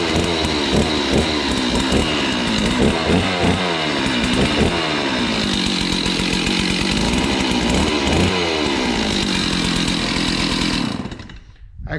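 A Stihl 038 chainsaw, freshly cleaned up and running without a chain, idles and revs loudly and close by, its engine note rising and falling in repeated bursts before cutting off at the end.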